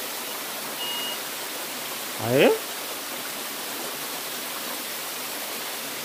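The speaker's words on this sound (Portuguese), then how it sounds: "No pé da cachoeira, hein?" A waterfall at Mafra, Santa Catarina, heard from its base, gives a steady broadband roar through the whole stretch, with a short spoken exclamation rising briefly above it midway.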